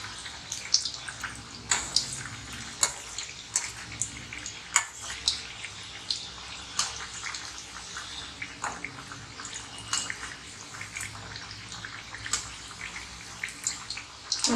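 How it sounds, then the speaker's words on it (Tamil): Colocasia vadai fry in hot oil, a continuous crackling sizzle dotted with sharp pops and spatters at irregular intervals, heard close and alone. "இப்போ எண்ணெயில் போட்டு நம்ம நல்லா 2 சைடும் வேக வச்சு நல்லா கோல்டன் ப்ரௌன் ஆன பின்னாடி எடுத்துக்கலாம்"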